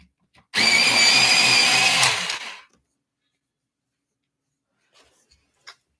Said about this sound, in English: I'm gonna sharpen it again.